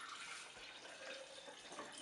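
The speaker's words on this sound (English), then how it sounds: "First thing we're going to do is we're going to pour in some water." Water poured into a container for a homemade lava lamp, a faint, steady splashing trickle running continuously and quietly.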